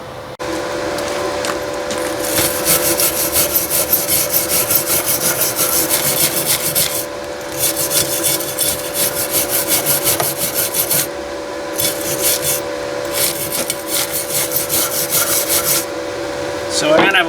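A brush scrubs slag off a fresh steel weld made with a cheap MIG welder, giving loud, close, continuous rasping strokes broken by a few short pauses, with a steady faint hum underneath.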